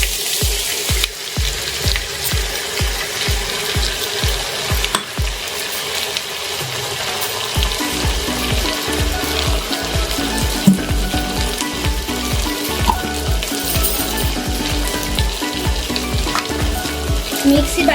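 A paste of cashew, melon seed and poppy seed fries in a pan on low gas, sizzling steadily while a utensil stirs and scrapes it in repeated rhythmic strokes, close and alone without talk.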